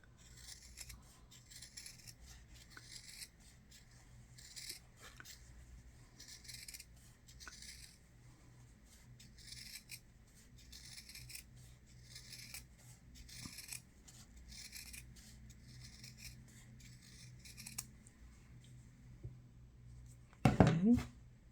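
Scissors trimming around a fabric clock patch, giving a steady series of soft, close snips, with a louder handling clatter near the end and faint talk at times.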